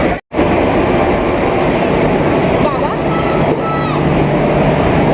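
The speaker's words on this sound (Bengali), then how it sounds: "এই যেদিকে একটা ট্রেন বেরিয়ে গেল" A train pulling out of a busy railway station on the Kolkata to Darjeeling route, a loud continuous rumble of rolling cars with faint squeals above, heard near, after a brief silent gap at the start.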